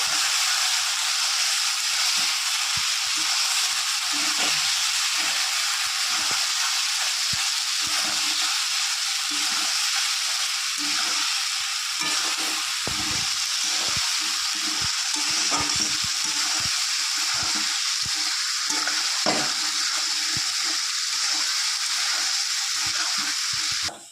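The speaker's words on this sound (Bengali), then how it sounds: "আদা রসুন টমেটোটা ভালো করে কষিয়ে নেবো যতক্ষণ কাঁচা গন্ধ না যাবে" Ginger, garlic and tomato paste fries steadily in a pan for a fish roe dish. A constant, hissing sizzle runs throughout, broken by frequent small ticks and scrapes from stirring, close by and with no voices.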